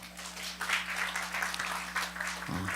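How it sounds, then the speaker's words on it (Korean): A congregation claps during a Sunday church service, a moderate burst of applause over a steady low hum, with a lower thump near the end. "자, 박수."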